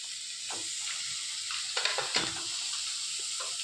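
Onions with coriander leaves and oil sizzle steadily in a pan, with a few louder scraping stirs of a spoon near the middle and no talk.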